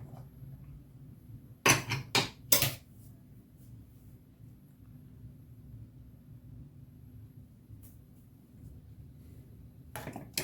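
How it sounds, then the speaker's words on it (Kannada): A metal lid lifted off a cooking pot of boiled lentils: a few sharp clanks and clinks close together, then a quiet low hum, with another brief clatter at the end. "ಈಗ ಲಿಡ್ಡನ್ನು ಓಪನ್ ಮಾಡ್ತಾ ಇದ್ದೀನಿ."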